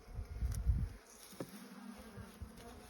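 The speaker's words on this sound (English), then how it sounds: "it's full of bees" Honey bees buzz inside a nucleus hive colony, a low dense hum swelling loudly for the first second and then settling into a softer, steady drone with a few brief higher buzzes passing close.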